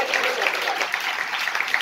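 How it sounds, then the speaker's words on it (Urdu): Church congregation clapping during a sermon: many hands beat in a brisk, even patter that holds level throughout, with a faint murmur of voices underneath. "جی یسوع مسیح بہن کے لیے تالیاں ماریں"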